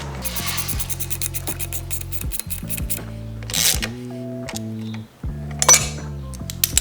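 A wrench tightens the exhaust bolt and nut on a Honda Grom motorcycle. The ratchet clicks and metal scrapes come in quick stepped bursts with brief pauses, heard close up.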